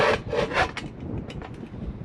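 Whole coffee beans crushed in a hand grinder on a day hike, a gritty rasping crunch in a few uneven strokes, close and moderately loud.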